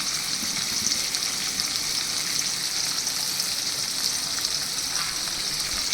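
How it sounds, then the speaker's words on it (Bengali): Jackfruit seeds frying in hot oil give off a steady, dense crackling sizzle close by that holds evenly throughout, with faint stirring and no talk. "এবার এইগুলো দিয়ে দেবে তেলটার মধ্যে"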